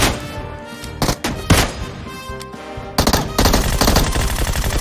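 Gunfire in a battle royale video game, rapid loud bursts and single heavy shots with thuds, dense and continuous toward the end, with no talk.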